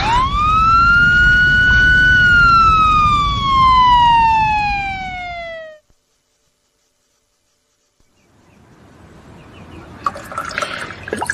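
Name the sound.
ambulance siren approaching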